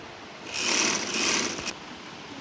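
A sewing machine stitching a kurti runs in two short bursts of fast, even whirring, close and fairly quiet, with a pause between them and no talk.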